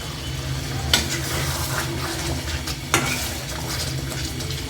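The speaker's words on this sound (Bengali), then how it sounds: "এখন ভালো করে মাছগুলো কষিয়ে নেব।" Giant prawns sauté in a pan with chopped tomato and slit green chilies, a constant close sizzle broken by two sharp spatula scrapes against the metal.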